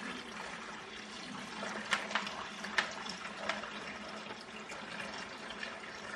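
Dirty water is siphoned out of a reef aquarium with a soft, steady rushing flow and a few small gurgles and clicks. The sound is faint and close, with no voices.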